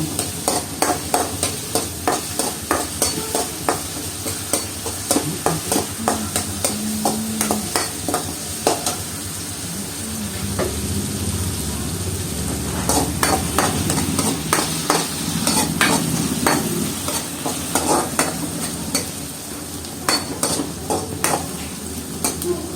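Chopped onions sizzle steadily in a hot pan while a utensil scrapes and stirs in frequent, irregular strokes, close by and fairly quiet.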